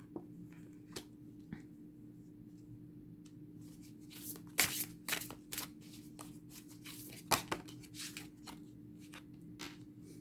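Tarot cards being shuffled and drawn by hand, soft riffling and snapping bursts close by with quiet gaps over a steady low hum.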